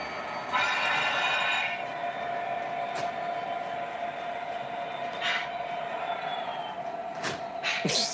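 SD70M locomotive pulling a light train of three ore cars, a steady rumbling rail hum with a few sharp clicks and brief squeals scattered throughout, moderately loud, no talking.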